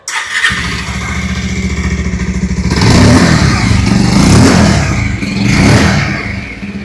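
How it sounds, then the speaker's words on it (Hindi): A 2026 Bajaj Pulsar 150 top variant motorcycle with split seat starts up close by, then idles with a steady exhaust thrum before three loud throttle revs swell and fall away, ending back at idle. "अभी सुन लेते हैं टॉप वेरिएंट की एग्जॉस्ट नोट।"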